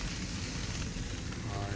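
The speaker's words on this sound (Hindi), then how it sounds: "बहुत ज़्यादा जो है वो बारिश और बर्फ़बारी मरी में जारी है सारी" A continuous hiss of rain and snow falling outdoors in Murree in June, with a steady wash of noise and some low wind rumble.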